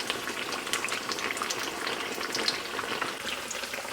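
Steady crackling sizzle of shrimp frying in a pan, dense bright spitting that continues throughout without pause, fairly close and moderately loud.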